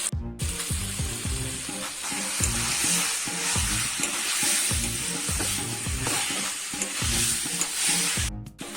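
Meat sautés in a pan, frying loudly and continuously while a utensil stirs and scrapes in a quick, regular rhythm, close and without any talking.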